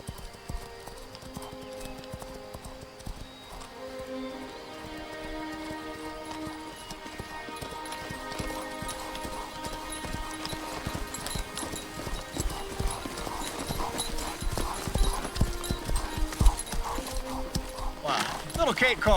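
Steady clip-clopping of horse hooves runs throughout, mixed with music and a whinny or two, growing busier and louder toward the end.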